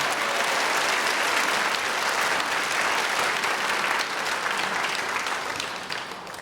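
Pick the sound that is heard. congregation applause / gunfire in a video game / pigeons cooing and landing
congregation applause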